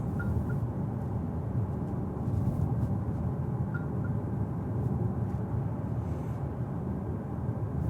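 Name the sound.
Renault Scenic eTech overspeed alert chimes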